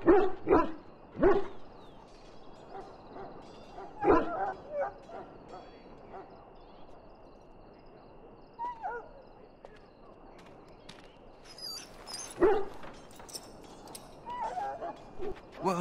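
A dog in the Dragon Age: Origins video game lets out scattered yelps, whimpers and short barks over a steady ambient background, in clusters near the start and again toward the end.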